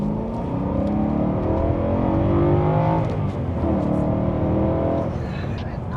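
A 2011 BMW E92 M3 with a manual gearbox revs hard and close, its engine note climbing and falling in a continuous loud roar across the whole stretch, with voices faintly mixed underneath.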